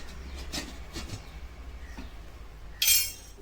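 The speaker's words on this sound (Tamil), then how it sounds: "இப்போ நான் இதை கலந்து விட்டுட்டு மூடி வச்சிடுறேன்" A cooking pot of drumstick curry is stirred with soft scraping taps, then a lid lands on it with a sharp metallic clink near the end, under a low background hum.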